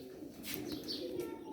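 Soft cooing from a pigeon with failing eyesight in both eyes, a few low throaty coos with faint chirps, close and fairly quiet, no talking.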